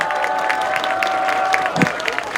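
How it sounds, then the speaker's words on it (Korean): A crowd applauds at a Jongno district election rally in Seoul, producing a continuous wash of clapping and cheering under a sustained tone and some background voices. "다시 한번 큰 박수 부탁드립니다, 여러분."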